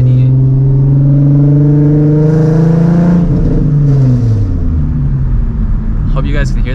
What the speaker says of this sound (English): Hope you guys can hear that leak right there.